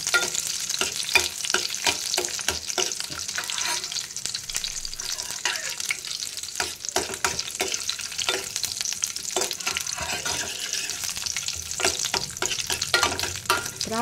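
Raisins frying in ghee for a white pumpkin halwa give off a dense, close crackle and spatter. Bursts of popping come in quick succession, mixed with stirring scrapes, with no talking.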